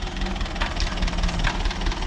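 A tractor engine runs steadily at close range while the machine works with a bucket during soil clearing, giving a continuous rough knocking rumble with no talk over it.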